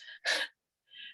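A single short sneeze in a city council meeting room, close and fairly loud, with a brief breath before it and a faint exhale after.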